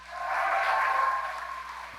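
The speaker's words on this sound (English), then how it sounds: "can I get a big round of applause for Jenny Weinbloom?" Audience applauding a speaker at a talk on immersive experiences, a steady wash of clapping that swells and then slowly fades over two seconds.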